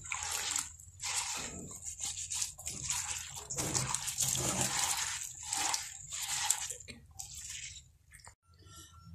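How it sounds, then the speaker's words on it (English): Hands swish and rub soybeans in water in repeated bursts to remove their skins, with sloshing, trickling and soft rattling as the beans are churned, close up. "This is my soybeans, and I have to wash it a bit to remove the bark."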